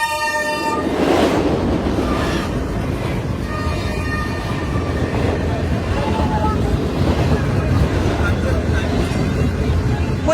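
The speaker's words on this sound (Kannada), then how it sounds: "ದೇವರು ಇನ್ನೊಂದು ಎಕ್ಸ್ಪ್ರೆಸ್ ಟ್ರೈನ್ ಬರ್ತಾ ಇದೆ ನೋಡಿ ಅಲ್ಲಿ" An express train passes close by, its steady roar and rattle of wagons filling the whole stretch, with horn-like tonal blasts near the start; someone talks over the din.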